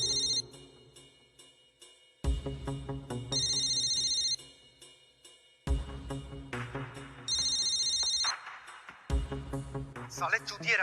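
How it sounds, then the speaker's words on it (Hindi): A forgotten mobile phone rings with a repeating electronic ringtone, loud bursts of tonal melody starting and stopping in several cycles, close and dominant in the scene. "अरे रोहित अपना फोन भूल गया।"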